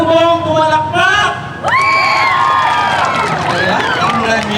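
An audience at a Natividad talent show grand final cheers loudly, with high whoops and shouted calls rising above a crowd roar. The sound is close, excited and sustained.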